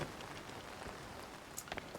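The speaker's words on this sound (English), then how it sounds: "It's overcast and rainy." Soft steady rain pattering on surfaces in The Legend of Zelda: Tears of the Kingdom, faint and continuous with a few brief brighter drips.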